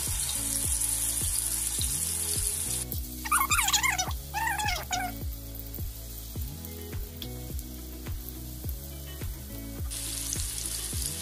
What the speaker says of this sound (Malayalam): ഇനി നമുക്ക് ചിക്കൻ ആ സെയിം എണ്ണയിലോട്ട് തന്നെയാണ് നമ്മൾ ചിക്കനും ഇടാൻ പോകുന്നത്.